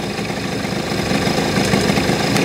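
A scooter engine idling steadily during carburetor adjustment after the mixture screw was set, a loud, close, continuous buzzing hum with a slight rough pulse and no voices.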